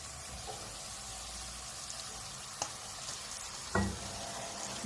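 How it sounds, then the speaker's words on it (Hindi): Marinated minced meat (qeema) fries with golden-browned onions in a pan, a soft, steady sizzle throughout. A couple of faint clinks and a light knock break through the hiss. "भूनेंगे इसके साथ ही, प्याज के साथ कीमे को"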